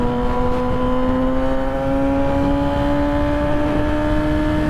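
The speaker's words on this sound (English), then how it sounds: "This has the most amazing exhaust note." A custom Yamaha R6 motorcycle in fourth gear at high revs gives a steady, loud, close exhaust drone with a smoothly rising engine pitch, no talk over it.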